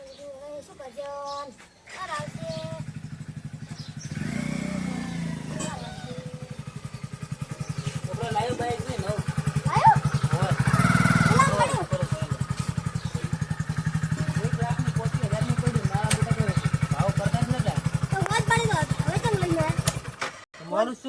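A motorcycle engine idles with a steady low throb for most of the clip, while people and children talk over it nearby.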